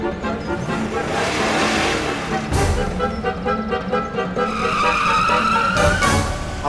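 A car skids and roars away under steady accelerating engine noise, with a tonal whine rising toward the end amid a dense background of music and effects.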